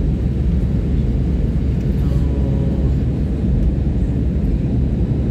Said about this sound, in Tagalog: around 15 minutes or 10 minutes ay lalapag na ang eroplano.